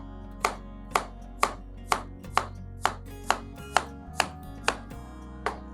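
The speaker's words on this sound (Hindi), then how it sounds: "प्याज को सबसे पहले चॉप कर लेते हैं।" A knife chops onions on a cutting board for chicken korma, about a dozen crisp, evenly spaced strikes landing roughly twice a second, close and distinct with nothing else over them.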